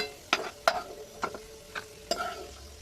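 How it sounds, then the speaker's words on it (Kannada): Dry fruits roasting in a pan with ghee for a sweet, as a spoon scrapes and stirs in a few sharp, separate strokes over a faint, quiet sizzle. "ಡ್ರೈ ಫ್ರೂಟ್ಸ್ನ ಸ್ವಲ್ಪ ರೋಸ್ಟ್ ಮಾಡ್ಕೊಳ್ಳೋಣ"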